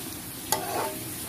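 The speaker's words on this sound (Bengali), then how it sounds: "পেঁয়াজটা বেশি ভাজা হয়ে গিয়েছে" Onions sizzle in a pan for a fish curry, a soft continuous fry with a quick stirring scrape partway through, no voices.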